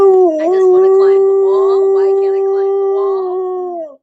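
A dog howls and whimpers in long, wavering drawn-out tones throughout, loud and close, while a person talks over it.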